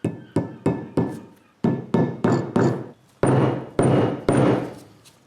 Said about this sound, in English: So, hoping I'll just be able to sort of hammer them in.